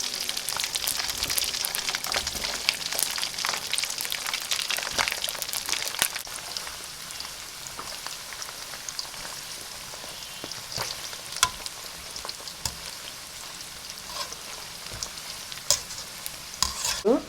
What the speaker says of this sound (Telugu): ఆయిల్ హీట్ అయ్యాక చేప ముక్కలు డీప్ ఫ్రై చేసుకోవాలి.